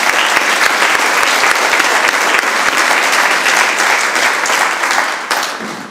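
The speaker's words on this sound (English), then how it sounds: "Let's give both of them a round of applause." Graduating-class audience at a 2025 high school graduation ceremony breaks into full applause, a loud, sustained roar of many hands clapping that holds steady before fading away at the end.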